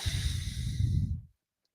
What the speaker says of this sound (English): Exhale passively, just let it go.